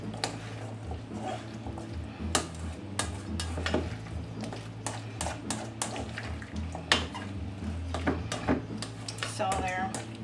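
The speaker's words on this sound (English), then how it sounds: "mix this together. Just like we're doing now." Turkey salad mixed by hand in a bowl, with repeated close spoon scrapes and knocks against the dish in an uneven rhythm while a person talks over it.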